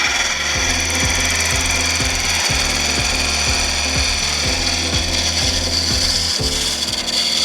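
A woodturning lathe spins a wooden piece while a round-head carbide cutter scrapes it, producing a steady close rasping rumble with a regular rotational clatter repeating through the whole stretch, no voices.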